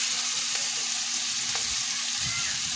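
Canned tuna fries in oil in a pan with a steady, dense sizzle and light stirring clicks, close and continuous without any voices.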